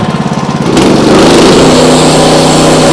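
A bandsaw sawmill cuts through a very large log, its motor surging up to a loud, steady high-pitched whine after a brief idle, with no voices.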